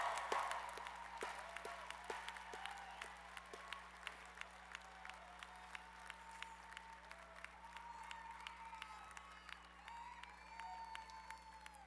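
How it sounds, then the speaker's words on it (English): Sustained applause from a large crowd at a college commencement ceremony, steady clapping filling the space for several seconds and slowly tapering, with no one speaking. "Let's give her another hand of applause."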